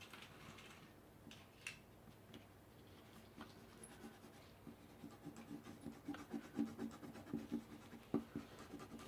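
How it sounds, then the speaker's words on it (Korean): A new triangular eraser rubs on paper in quick, soft scratching strokes, growing denser and more rhythmic toward the end, close and quiet. "생각보다 잘 지워지네요."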